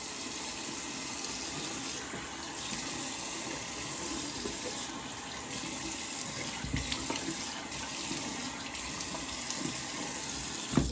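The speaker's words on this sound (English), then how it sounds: "rinse off real quick" Steady rushing of tap water runs throughout as a face is rinsed after shaving, an even broadband wash with a few small splashes and clinks near the end.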